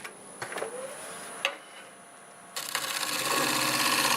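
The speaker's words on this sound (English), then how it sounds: "I just have to go over it with the scraper and then we can sand it" A scraper on a lathe cuts spinning olive wood. Sharp ticks and clacks come first, then a steady rasping scrape rises and continues to the end.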